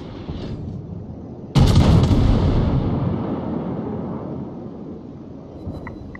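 Main guns of the battleship Kaiser fire in World of Warships as a single sudden heavy boom, loud and close, followed by a long rumbling decay over a low background hum.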